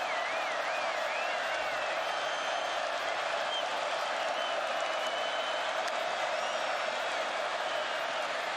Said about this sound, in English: The crowd injecting some bark into this NC State defense ahead of 3rd down.